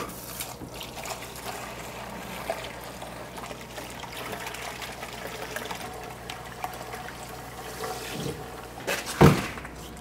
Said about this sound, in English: dump the water onto the tray in the hope that the gravel doesn't explode out of the tank